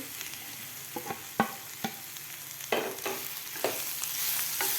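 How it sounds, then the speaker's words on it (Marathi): Crushed cluster beans hiss in a hot pan for a spicy Maharashtrian thecha with chilli, garlic, cumin and coriander, a soft steady sizzle punctuated by scattered clicks and scrapes of stirring. "त्यानंतर लगेचच आपल्याला हे गवार घालायचे आहे कुटून घेतलेली"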